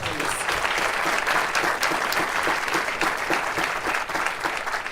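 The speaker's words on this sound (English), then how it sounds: "So another round of applause for that," A full room applauds at a community partnership announcement between a hockey team and a city, the clapping continuous, loud and evenly textured from start to finish.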